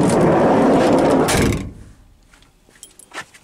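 The sliding door of a Volkswagen T3 van, fitted with a new barrel-shaped roller, rolls shut along its rail with a loud grinding rumble for over a second, then thuds closed; faint clicks and rattles follow.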